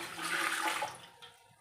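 Water poured into a pot on the stove for kurdai dough, one loud, close gushing pour that tapers off quickly.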